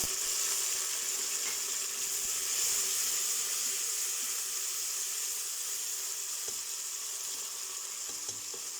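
Water added to a hot pan sets off steady loud sizzling and frying hiss, continuous throughout with occasional faint clinks; no talking.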